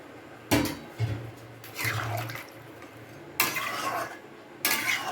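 Reserved meat water from a bowl is poured into a cooking pot of chicken curry, splashing in a few short bursts with clinks of the pot and utensils between them, close and fairly loud.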